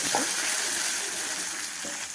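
A steady, fairly loud hiss of onions, garlic and curry leaves frying in oil after a mustard and cumin tempering, with a faint clink or stir near the start.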